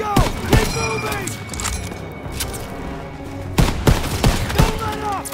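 Call of Duty WW2 machine gun fire in a Normandy battle around a barn, sharp loud bursts of shots with booming impacts, mixed with shouted voices.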